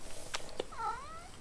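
An old female house cat gives a single close meow that rises and falls, preceded by a brief click, against a quiet room background.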